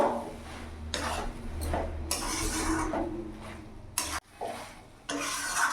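A utensil stirs vegetarian cabbage ghonto with ghee in a pan on a gas stove, giving repeated close scraping and clinking strokes over a soft, steady sizzle, with no talking.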